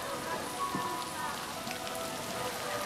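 Steady rain falling at Itsukushima shrine, a continuous close hiss of drops on surfaces filling the whole stretch with no break and no clear voices.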